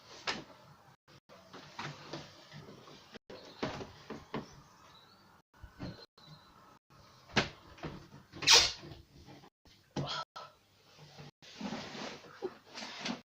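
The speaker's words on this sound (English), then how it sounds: "Hang on, I'm going to close the window." A window is handled and slid shut with a series of knocks, clunks and a sharp squeak, between quiet pauses.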